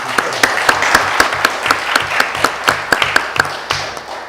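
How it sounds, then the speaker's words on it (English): A debate audience in Birmingham claps for the speakers, a modest round of applause with distinct, sharp individual claps in a loose, fairly regular rhythm, close and clear. "can we have a round of applause for the speakers"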